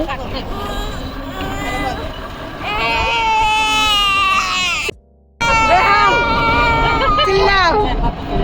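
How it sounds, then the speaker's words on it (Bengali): A child wails loudly inside an auto-rickshaw, crying in long rising and falling sobs with a brief break, amid background chatter and road noise. "এখানে অটোতে কার্টুন দেখার জন্য কান্নাকাটি করতেছিল"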